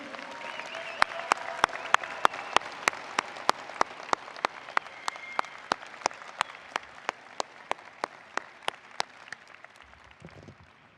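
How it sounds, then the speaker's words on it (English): Graduation convocation audience at the Ivy College of Business applauds family and friends with steady, moderately distant clapping from a large crowd, punctuated by a regular series of sharp, close clicks and slowly fading out. "Candidates, how about a round of applause for your great support team sitting here?"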